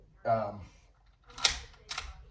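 The bolt of a hunting rifle is worked open in a few close metallic clicks and slides, following a short burst of talk.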